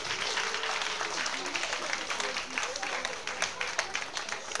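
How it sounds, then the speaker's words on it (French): Audience applause at a Paris diaspora awards show, steady dense clapping filling the whole stretch with a sharper burst at the very end, carried over faint background voices. "Je vais vous demander d'applaudir cette initiative,"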